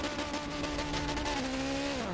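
Race car launching from the start line in a racing video game, its engine tone climbing and then shifting pitch as it pulls away, steady and mid-level with a faint crowd wash behind.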